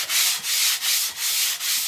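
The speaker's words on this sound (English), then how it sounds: "what I'm using is 120 grit sandpaper, so it's nothing too dramatic. It's a relatively fine one, and you just have to go along and literally rub all the surfaces" 120 grit sandpaper is rubbed over the surfaces of a sewing machine before respraying, giving steady back-and-forth rasping strokes, about five even passes, loud and close with no voices.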